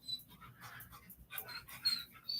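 A dog whimpers and whines indoors in short, thin, high-pitched bursts, fairly close and fairly quiet, with no talking over it.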